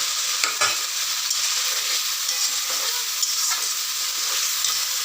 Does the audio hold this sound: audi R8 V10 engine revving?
no